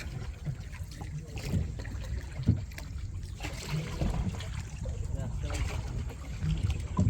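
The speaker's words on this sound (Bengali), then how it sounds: "এটা হচ্ছে ক্যারিং বোট" A fish-carrying boat moves along the water, its low engine rumble steady throughout with light splashing and wind, and people talk over it.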